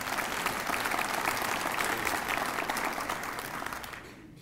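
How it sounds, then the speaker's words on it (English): A crowd claps in sustained, even applause that fades out at the end. "Give them a big round of applause."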